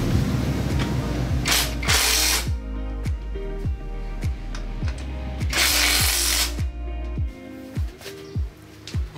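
A ratchet tool tightening exhaust nuts at the elbow of a Honda Click V3 motorcycle while a power pipe is fitted, quick repeated clicking strokes in bursts with two short loud whirring spells, close and clear with no talking.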